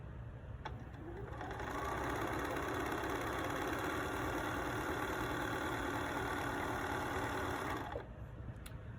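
A sewing machine runs steadily for about six seconds, stitching fabric pieces for a pillow, with a close, even mechanical whir that starts and stops cleanly and has no talking over it.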